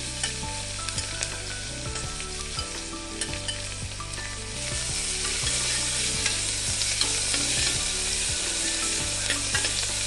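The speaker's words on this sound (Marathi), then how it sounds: "कांदा पण परतून घेऊया छानपैकी" Onion sautés in hot oil with cumin, a steady close sizzle with regular stirring scrapes; the sizzle grows louder midway, and no one speaks.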